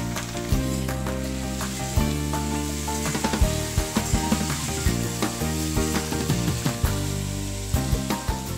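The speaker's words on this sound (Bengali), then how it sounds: "আলুগুলো একটু ভাজা ভাজা করতে হবে" Potatoes frying in hot oil seasoned with black cumin, a steady loud sizzle with frequent scraping and clanking stirring strokes against the pan, no talking.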